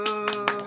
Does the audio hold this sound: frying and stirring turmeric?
no